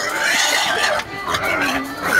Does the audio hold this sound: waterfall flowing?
no